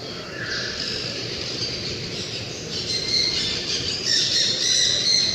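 A parrot squawks in repeated harsh, close calls that swell louder toward the end over a constant background hiss.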